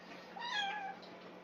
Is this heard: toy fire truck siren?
no